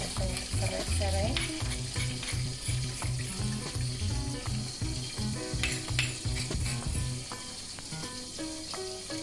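Beef simmering in a pot with ground pepper, bruised galangal and a stalk of lemongrass is stirred, giving steady loud scraping and bubbling for several seconds, then the stirring stops and a quieter simmer remains.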